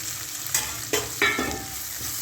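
Onion, garlic and capsicum fry in a pan while a spoon stirs them, giving a steady close sizzle with a few sharp scraping strokes.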